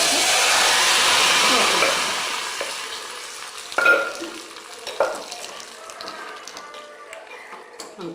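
A hot tempering is stirred into mashed dal for mango dal, first a broad sizzling hiss that fades out, then scattered scrapes and taps of a spoon against the pot.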